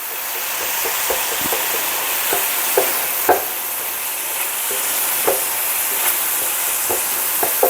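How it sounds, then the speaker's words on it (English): Ground taco meat sizzles in a frying pan, a loud, continuous hiss with occasional sharp clicks and scrapes of stirring. "the meat cooking over here, it's"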